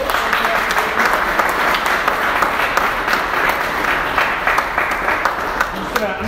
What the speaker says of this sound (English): So round of applause for all of our panelists.